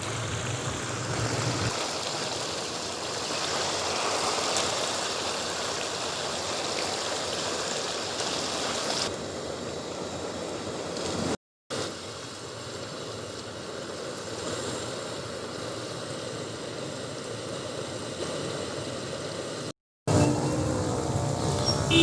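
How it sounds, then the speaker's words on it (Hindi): White chicken karahi fries in a pan over high heat with a steady, loud, broadband sizzle that runs continuously, broken by two brief cuts, with no voices. "इसको 5 मिनट तक तेज़ आग पर फ्राई करना है।"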